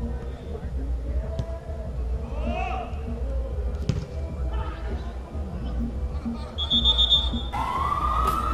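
A Unimed ambulance siren wails as it enters during a football match, rising toward the end over a noisy crowd and steady voices of people talking.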